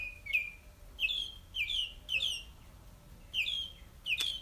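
Small songbirds chirp outdoors in a series of six or so bright, short rising calls spaced about half a second apart, fairly close and clear over a quiet background.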